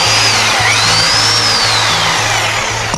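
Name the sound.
SDS hammer drill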